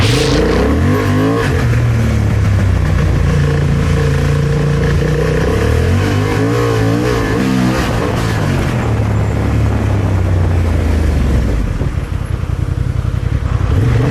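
A Honda Hornet motorcycle engine roars continuously at close range as the rider pushes toward top speed with traction control off, pitch climbing through rising revs with brief dips at gear changes, loud and steady with wind rush throughout.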